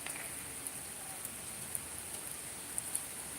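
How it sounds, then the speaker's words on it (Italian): Steady rain falls outdoors in an even hiss, with scattered faint drops ticking on a surface now and then, no voices. "qui sta piovendo, è incominciato diciamo a piovere"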